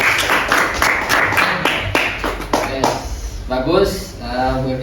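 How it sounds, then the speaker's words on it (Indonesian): A classroom of students claps together for a classmate's answer, a burst of dense clapping that thins into scattered claps, with a teacher's voice speaking over it near the end. "Tepuk tangan semua"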